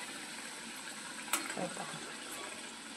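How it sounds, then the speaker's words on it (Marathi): A rolled puri fries in hot oil for besan puri ladoos, giving a faint steady sizzling hiss with one brief splashing crackle partway through. "एक पुरी मी तेलामध्ये टाकली तळायला"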